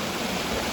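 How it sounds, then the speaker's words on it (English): Small waterfalls and a stream at Cottonwood Falls in Worlds End State Park make a steady, broadband rush of falling water, continuous and fairly close, with no voices. "Little falls all over the place."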